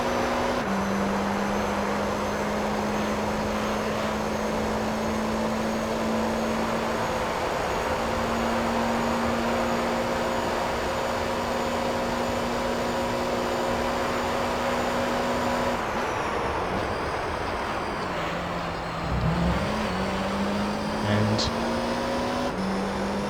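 Racing car engine from the video game Gran Turismo, a steady droning tone held for long stretches with a brief pitch dip and recovery near the end, loud and continuous with no talk.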